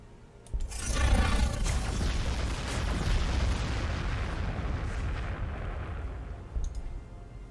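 Explosions tearing apart a Dark Fortress in the Warhammer 40k Gladius strategy game, a dense rumbling roar of blasts that starts after a brief pause, swells loud, and sustains with crackling bursts before easing slightly, with a sharp pop near the end.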